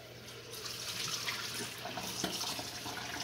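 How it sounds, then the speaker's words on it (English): Cold tap water pours steadily into a hot cooking pot at a kitchen sink, a continuous close splashing rush with no talk. "I also put cold water in the pot just because the pot's hot too."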